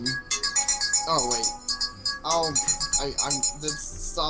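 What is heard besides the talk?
mobile phone ringtone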